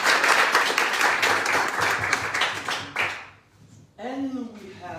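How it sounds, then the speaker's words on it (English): Audience applause at an elevator pitching event, a dense burst of clapping that fades after about three seconds, followed by a brief voice over the room. "Big applause, please."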